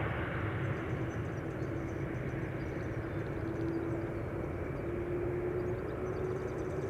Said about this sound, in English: Embraer 175 arriving from Stuttgart.